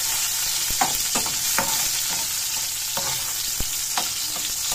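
Tomatoes and ginger stirred into squid adobo frying in a pan: a steady sizzle runs throughout, broken by several sharp scrapes and clicks of the spoon against the pan.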